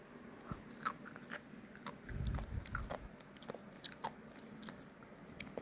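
Sea grapes dipped in chogochujang are bitten and chewed close up, with soft popping crunches and moist chewing sounds at a quiet level, and no speech.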